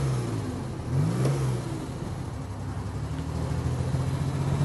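A 1973 Citroen SM's Maserati 4-liter V8 revs steadily and close, a continuous engine roar that rises and sags briefly near the start, with no talking over it.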